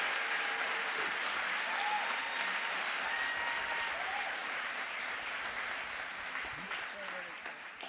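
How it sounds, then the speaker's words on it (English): Audience applause welcoming a speaker to the stage, with steady, continuous clapping from a sizable crowd that eases slightly near the end; faint voices and cheers mix into it. "give a huge round of applause for BrandonSpars."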